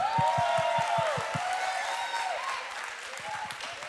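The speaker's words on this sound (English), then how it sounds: "everybody clap" A church audience claps together in rhythmic applause, loud at first and then fading, with organ or keyboard tones and a few voices underneath.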